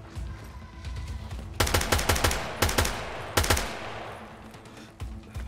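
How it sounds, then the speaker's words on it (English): Gunfire in the survival game DayZ: a few bursts of rapid shots crack out in clusters over a steady low outdoor rumble, fairly close and loud, with no talking. "I see him, he's shooting at me"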